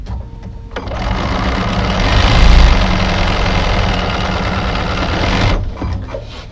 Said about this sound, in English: I'm going to go back to my machine and sew another 1/4 inch seam.